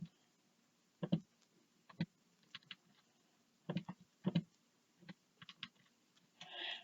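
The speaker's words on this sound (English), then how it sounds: "type that in my calculator" Keys on a calculator are tapped in short, irregular clusters of light clicks, close and quiet, with pauses between presses and no one speaking.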